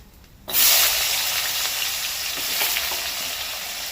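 Potatoes sizzle loudly as they hit the hot pan for a mixed vegetable curry, a sudden burst of steady crackling frying that holds close and continuous with no talk.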